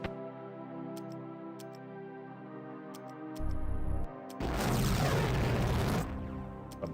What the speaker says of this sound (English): The mighty D cannon.